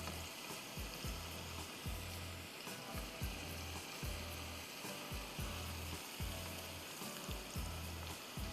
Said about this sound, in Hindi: प्याज हल्की सी लाइट गोल्डन होगी